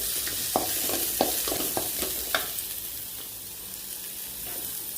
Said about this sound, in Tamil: இப்போ வெங்காயம் வணக்கிட்டுருக்கேன்